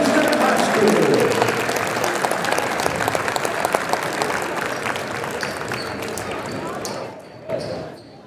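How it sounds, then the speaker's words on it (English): Audience applause at a high school basketball game honoring seniors, Southwestern High School gym: sustained, dense clapping filling the hall, fading near the end. "let's give all our seniors one more great round of applause"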